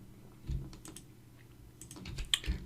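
Computer keyboard typing keyboard shortcuts while modeling an electrical device in Blender: a few scattered, close key presses in short clusters, with no speech.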